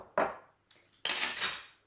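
Crispy mushroom vegan taco filling stirred with maple syrup in a bowl, heard as three short, close scrapes and clinks of a utensil against the dish.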